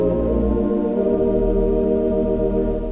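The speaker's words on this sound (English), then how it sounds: "we're going to start with the tibias. Tibia clausa, there's 2 of them, and together they sound like this." Two tibia clausa ranks of a Wurlitzer theatre organ play together, a sustained warm, flute-like chord with a gentle tremulant waver, steady and close.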